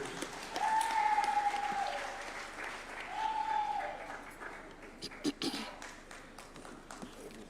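An audience applauds at a judges' swearing-in ceremony at State House, Nairobi: soft, fairly distant clapping rises and fades under a couple of sustained tonal sounds, with some voices in the room.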